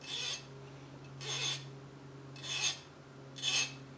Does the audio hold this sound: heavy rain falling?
no